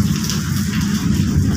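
Heavy rain pours down steadily on a construction site, a dense continuous hiss with a low rumbling drum of water, close and loud with no voices.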